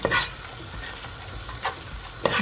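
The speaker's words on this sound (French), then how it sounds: "je vais monter un tout petit peu le feu et je vais encore mélanger" A cow's foot stew is stirred in a pot over raised heat, with a low simmering sizzle and repeated scraping strokes of a spoon against the pot, close and moderately loud.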